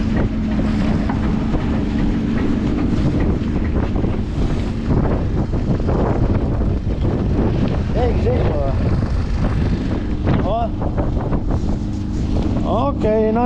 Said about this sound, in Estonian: Väike mootor suriseb siin taga.